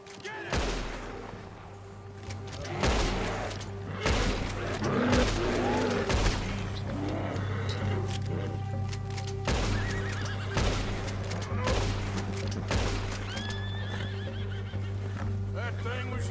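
Gunfire in the video game Red Dead Redemption 2 during a snowy hunt, several sharp shots scattered among horse whinnies and hoofbeats, with people talking over a low steady drone.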